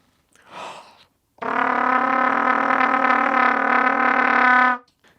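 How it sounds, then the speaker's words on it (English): A brief breathy rasp, then a sustained buzzing trumpet tone played with flutter tongue, a rapid rolling flutter, held steadily for about three seconds before stopping. "Flutter tongue is when you roll your R's, and you do that through the trumpet."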